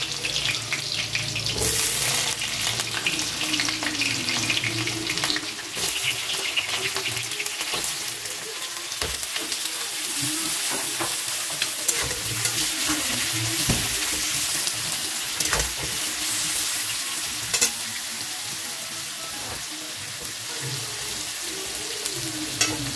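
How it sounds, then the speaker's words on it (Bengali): Pumpkin pieces fry in a pan for a vegetarian kumror chokka, making a dense, watery sizzling hiss that runs steadily throughout with occasional stirring knocks, near and unaccompanied by speech. "এবার আমি কুমড়োগুলো দিয়ে দিচ্ছি।"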